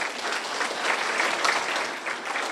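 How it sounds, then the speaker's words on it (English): Bar association members receive a round of applause at a Manatee County Bar Association event, a dense, steady wash of clapping from a seated audience that holds evenly throughout. "Round of applause for them as well."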